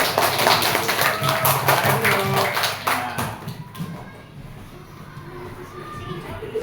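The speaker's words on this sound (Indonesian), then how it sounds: "Tepuk tangan untuk kelompok." A fourth-grade classroom claps for a student group after its presentation: a few seconds of close, uneven hand claps with children's voices mixed in, fading to quieter room chatter.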